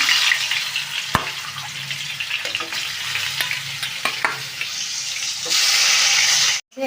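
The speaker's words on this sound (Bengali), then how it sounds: "তেলটা গরম হয়ে গেল মাছটাকে এক এক করে ভেজে নেবো" Katla fish pieces sizzle steadily in hot oil in a kadai, a continuous close frying hiss with a few sharp clicks and spatters, swelling louder near the end before cutting off abruptly.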